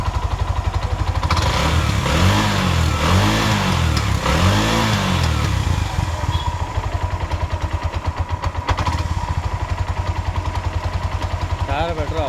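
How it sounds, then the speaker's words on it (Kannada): A 2005 Bajaj auto-rickshaw engine with a worn-out carburettor and no silencer filter runs rough and loud, a steady coarse putter with some uneven surges, close by, with no speech over it. "ಸೈಲೆನ್ಸರು ಫಿಲ್ಟ್ರ್ ಇಲ್ಲ, ಅದ್ರ ಸೈಲೆನ್ಸರ್ ರಫ್ ಸೌಂಡು"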